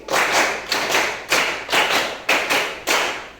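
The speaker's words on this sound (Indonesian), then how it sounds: "tepuk 1, tepuk 2, tepuk 3, tepuk 4, tepuk 5, tepuk 5 2 kali." Hand claps in a math classroom lesson, six sharp, loud strikes spaced evenly in a steady rhythm, each with a short decay, no talking over them.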